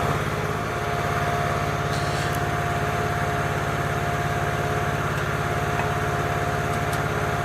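A Vevor commercial grain mill grinds corn, re-running sifted grits at the same setting; a loud, steady motor drone with a rapid rhythmic grinding buzz, close and continuous, with a couple of faint clicks.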